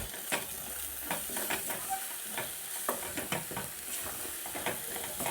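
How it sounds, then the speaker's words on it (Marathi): Masala spices with red chilli powder and coriander powder being stirred into frying oil in a pan for matar paneer, a steady sizzle broken by repeated scraping strokes of a spoon, close and continuous. "आता सर्व मसाले छान व्यवस्थित मिक्स करून घेऊया"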